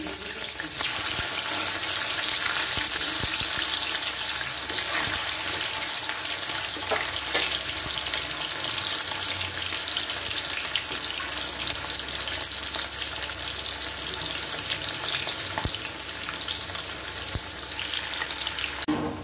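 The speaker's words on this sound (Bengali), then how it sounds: "ওই তেলের মধ্যেই আমি এবার মাছগুলো ছেড়ে দিচ্ছি আস্তে আস্তে" Pieces of rui fish fry in hot oil left from browning onions, giving a loud, continuous, even sizzle that fills the whole stretch with faint clinks of stirring and no talking.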